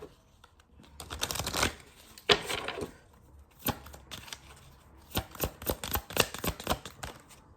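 Tarot cards shuffled and drawn by hand, bursts of riffling and flicking with short pauses between, close and crisp.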